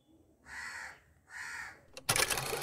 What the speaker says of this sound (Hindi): कौवा क्यों चिल्ला रहा है यार